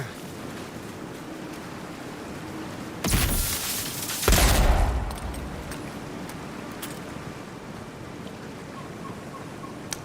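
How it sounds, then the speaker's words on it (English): Two loud bursts of gunfire in the fantasy game Avowed, close and forceful, the second heavier and longer, over a continuous windy, watery ambience. "The gun sounds are pretty nice too."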